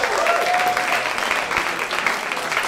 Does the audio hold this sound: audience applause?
yes